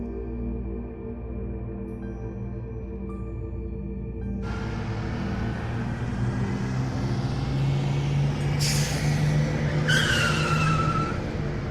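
A bus rolls in at night on a road toward Shimla, its engine rumbling low and steady, with a brief squealing hiss of brakes near the end.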